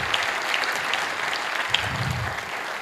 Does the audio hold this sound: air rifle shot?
no